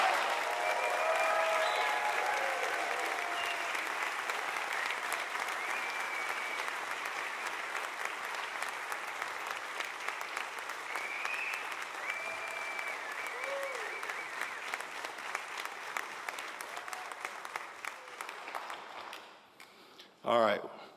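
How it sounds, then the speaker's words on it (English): Audience applause fills an honors ceremony for a business college's graduating honors class, a dense, sustained clapping that stays steady throughout and fades near the end before a brief final burst. "How about one more round of applause for the Walton College Honors Class of 2024."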